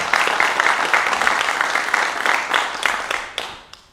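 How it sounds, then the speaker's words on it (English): An audience at a tech talk about generative AI and DevOps bursts into loud, sustained applause that fills the room. The clapping holds steady, then tapers off with a few last claps. "Let's give a round of applause to the OGs of Birmingham."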